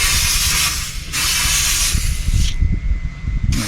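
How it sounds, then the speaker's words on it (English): Aerosol degreaser sprayed onto oily, gunked-up parts of an old jet ski, heard as loud hissing bursts with short pauses between them, close up and without talk. "I'm gonna use some of the super clean aerosol degreaser."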